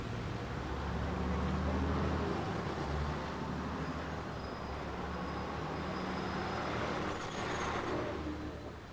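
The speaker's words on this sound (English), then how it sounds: "London's double-decker buses are the way most Londoners get around." A London double-decker bus moving in city traffic. Heavy engine rumble and road noise fill the scene, and a hiss like an air brake rises near the end.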